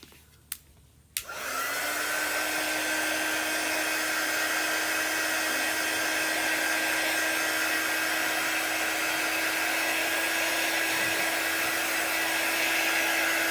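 A hair dryer drying a chalk drawing clicks on after a brief quiet moment and then blows with a loud, steady whoosh and whine that holds unbroken to the end.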